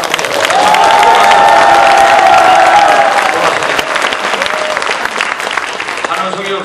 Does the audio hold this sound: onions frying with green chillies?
no